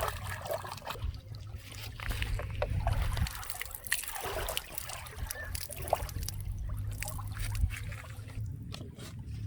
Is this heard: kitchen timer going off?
no